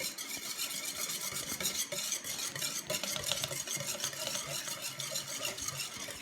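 Egg yolks being whisked for crème brûlée, a rapid, continuous metallic beating against a bowl, close and steady throughout, with no voices.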